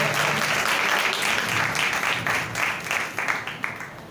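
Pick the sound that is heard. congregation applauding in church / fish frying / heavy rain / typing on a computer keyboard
congregation applauding in church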